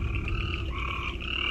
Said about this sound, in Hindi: ये मेंढक गिरगिट और क्रिकेट जो भी होते हैं सबकी आवाज़ आ रही है